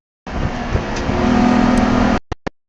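Champcar endurance race car engine at Watkins Glen, a loud, steady drone that holds and rises slightly before cutting off abruptly at the gear shift, followed by two short sharp bursts.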